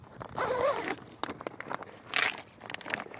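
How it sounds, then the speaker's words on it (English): A plastic zipper on a cargo carrier bag is zipped in a few quick close pulls, mixed with crinkling fabric rustle. "we'll zip it back down. The zippers, they're not bad. They're your average plastic zippers."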